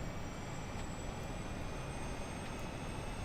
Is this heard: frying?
no